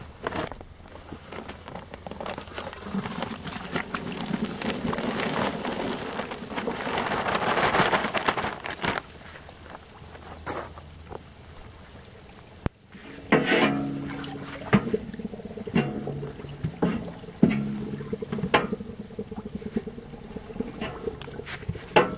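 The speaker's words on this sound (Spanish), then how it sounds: "Fíjate cómo está haciendo ebullición" Quicklime slaked with water in a bucket, the traditional way, seethes and bubbles in a continuous crackling hiss that swells and fades, with occasional sharper pops and stirring clatter.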